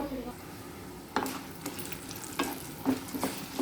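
Mustard seeds, cumin and dried red chillies sizzling in hot oil, a soft steady crackle broken by a few sharp pops and stirring scrapes, heard quietly and close.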